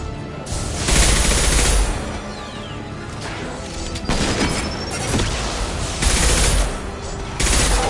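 Loud rifle fire in Mass Effect 2 on PlayStation, heard as several bursts of rapid shots with sharp cracks and booming impacts spread across the clip, close and intense, with no voices.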